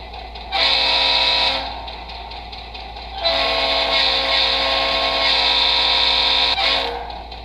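Sound effects from an HO-scale model locomotive play through a small iPhone speaker: two long bursts of a loud, bright multi-tone train horn, separated by a quieter rumble of the running engine, with a steady low hum underneath.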